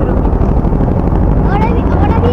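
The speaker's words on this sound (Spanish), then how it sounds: "Aproximando desde el norte hacia su presentación, una escuadrilla de helicópteros" A squadron of military helicopters flies over a military parade at Parque O'Higgins, a loud, steady low rotor and engine roar filling the whole moment while an announcer speaks over it.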